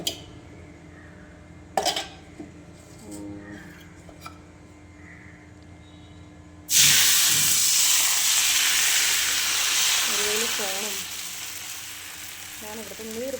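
Neer dosa batter hits hot oil in a pan with a sudden loud sizzle that starts partway through and then slowly eases off, after a few quieter kitchen knocks and clinks, with a person speaking briefly.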